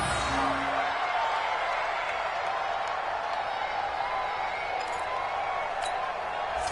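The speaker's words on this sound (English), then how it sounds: "The crowd here in the Dome making things difficult." Stadium crowd noise in an American football video game set in a domed stadium, a steady loud roar of many voices with no breaks and faint scattered shouts on top.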